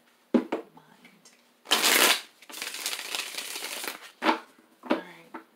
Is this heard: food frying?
no